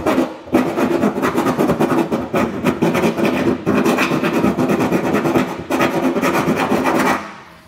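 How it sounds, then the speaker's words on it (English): A hand file rasps across drilled raw metal hitch base rails, deburring, in repeated back-and-forth strokes, a steady scraping rhythm close by with short pauses between passes. "I'm gonna go through just with a file and get some of those burrs taken off."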